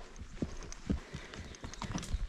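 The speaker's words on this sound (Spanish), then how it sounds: "Hacía años que no montaba a caballo." Horse hooves clip-clop at a slow walk during a trail ride in a village area covered by volcanic lava, the steady, fairly close thuds rising over a faint background.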